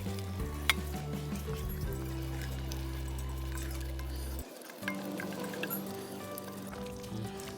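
Steady sizzling in a hot pot as chicken goes into Kerala-style curry and gets stirred, with scraping stirs and a low hum underneath; no one speaks.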